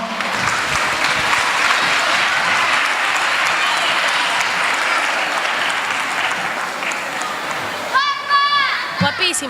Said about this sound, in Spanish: Un aplauso para Nerea.